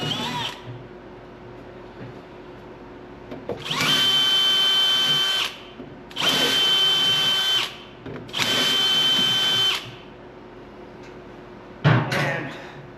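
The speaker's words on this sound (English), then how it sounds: "we got to drill out these" A power drill whines in three sustained bursts of a couple of seconds each, drilling out threads on a Yamaha Phazer snowmobile, separated by short pauses, with a few clunks and a brief final burst.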